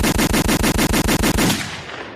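Rapid automatic gunfire from sound effects plays loud and close in an even, fast burst of about ten shots, then cuts off and leaves a fading tail with no talking.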